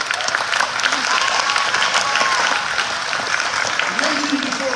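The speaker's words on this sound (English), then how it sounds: "Give them a round of applause, please." Steady applause from a crowd at a Year 12 graduation ceremony, continuous and fairly loud throughout, with clapping blending into a dense wash of sound.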